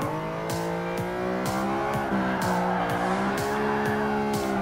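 A Greddy Fugu Z race car in Gran Turismo Sport drives with a loud, constant engine drone whose pitch repeatedly climbs and drops sharply as it shifts gears, with brief tyre squeals between, and no voices.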